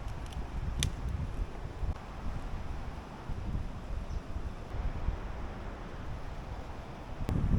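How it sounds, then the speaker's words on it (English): Steady wind gusts buffet the microphone with a low rumbling roar and faint rustling, continuous throughout with a few sharp knocks. "it's getting a bit windy."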